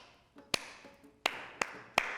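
A single person's hands clap five times in a quiet room, with sharp, separate claps spaced irregularly and no other sound around them.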